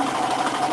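A sewing machine stitching a hoodie gives a steady, continuous mechanical whir at moderate volume in a short, unbroken stretch.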